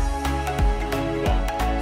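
Orchestral brass from the Quantum Leap sample library, with trombone staccato and horn notes layered together: sustained low brass tones punctuated by several short, sharp accented hits at a steady moderate pace, full and close.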